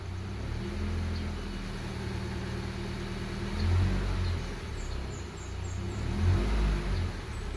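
A car engine fitted with an F2R booster revs repeatedly under a hard throttle, giving a low, steady rumble with a few louder surges. The engine is heard alone, with no voices.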